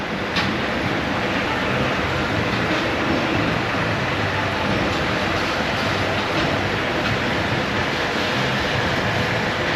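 A spinning roller coaster train at Fantasy Island rumbles and rattles along its track, a continuous rushing roar with clattering undertones, steady and fairly close throughout.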